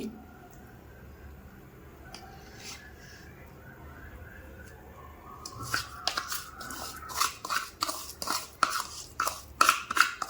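Spoon scraping and stirring in a pan of soaked fenugreek, ghee, wheat flour and jaggery, a rapid run of close clinks and scrapes building after a quiet start.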